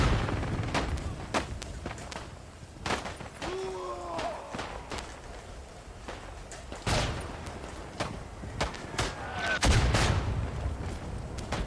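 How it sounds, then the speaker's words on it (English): A bomb is launched and explodes in a video game, producing a series of sharp, booming blasts and cracks spread over several seconds, with faint voices and game noise underneath. "Bomba lanciata!"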